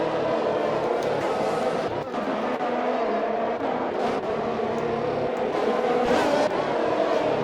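Video-game F1 race cars at the Hungary circuit produce a continuous high-pitched engine roar, with revs surging as cars close in and pass. A talking voice runs over it.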